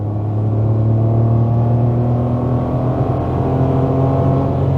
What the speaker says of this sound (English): when it's paired with a 3-cylinder turbo engine